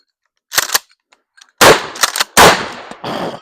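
A shotgun is fired outdoors in several loud, sharp blasts with short gaps, the reports booming close to the microphone and ringing out briefly between shots.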